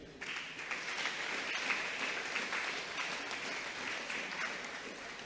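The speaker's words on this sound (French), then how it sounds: "Une fois de plus, on nous applaudit les seigneurs." A church congregation breaks into steady, dense applause that starts abruptly and holds at an even level throughout, close and continuous with no talking over it.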